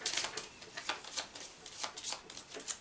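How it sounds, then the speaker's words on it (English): A discard pile of playing cards being shuffled by hand during a tabletop card game, a series of soft riffling bursts in quick succession, close and quiet. "my draw pile's gone, so I'm going to have to shuffle my discard pile"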